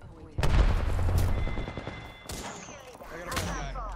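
Gunfire in a tactical shooter video game, with a few sharp loud shots and bursts spaced over four seconds and some heavier thuds mixed in.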